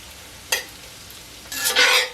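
Brussels sprouts sizzle in hot oil as a utensil stirs them, giving two bursts of loud frying and scraping close by with a quieter crackle between.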